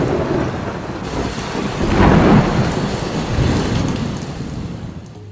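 Hurricane Ian brings a thunderstorm with heavy rain: a continuous loud roar of downpour swells as a deep rumble of thunder rolls through the middle, then eases back to steady rain.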